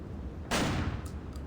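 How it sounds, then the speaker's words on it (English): A single loud video game shotgun blast cracks out after a quiet stretch, with its burst fading quickly, followed by a couple of faint clicks. "The mercenary decisively pulls the trigger of her shotgun."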